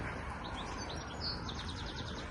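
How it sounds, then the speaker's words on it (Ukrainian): Birds chirp and trill in quick repeated notes over a low outdoor hum, fairly faint and somewhat distant. "Боже, як пташки співають."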